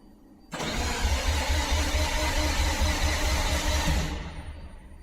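A car engine cranks briefly and roars to life, running loud and rough for a few seconds before cutting off abruptly.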